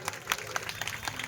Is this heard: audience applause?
yes